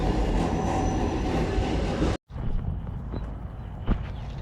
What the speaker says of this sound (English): There goes, it looks like an Amtrak train or a subway or something.